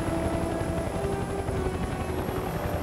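A helicopter in the video game Mercenaries 2: World in Flames drones with a steady, dense rotor thrum and whine, loud and close, holding constant without pause or talk.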